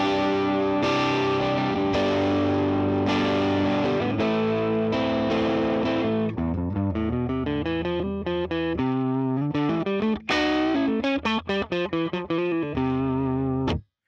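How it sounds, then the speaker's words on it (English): An electric guitar plays through an amp model of a 1966 Vox AC30 with high boost, set to a clean crunch blues tone: sustained chords first, then a run of quicker picked notes and choppy chords, loud and alone. "The 66 AC High Boost is based on a 66 Vox AC30. This is one of my all-time favorites for clean and clean crunch blues tones."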